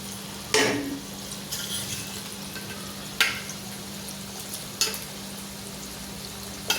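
Cut Diwali snack pieces fry in hot oil with a low steady sizzle, punctuated by four sharp clinks of a utensil against the pan at spaced intervals, close and otherwise quiet.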